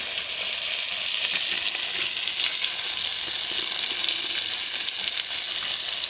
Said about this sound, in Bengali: সজনে ডাঁটাগুলি এখন দিয়ে দিচ্ছি একটু হলুদ